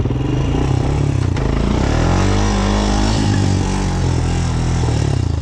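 Honda Recon ATV engine revving hard and steady while riding through a creek, a loud close drone with rising and falling pitch, splashing clatter and scraping mixed in throughout.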